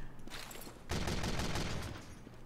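Gunfire in a video game: a rapid burst of shots erupts abruptly and sustains loud, dense and crackling before trailing off, with no talking.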